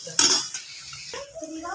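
Spiced potatoes are stirred in a pan with ginger-cumin paste, turmeric and chilli powder, giving a few scraping clinks of a spatula against metal and a faint sizzle, brief and close by.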